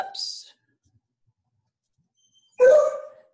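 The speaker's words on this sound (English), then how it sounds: "there's my hound dog barking" A hound dog barks twice, a short yelp and then a louder full bark about two seconds later, somewhat distant, with quiet gaps between.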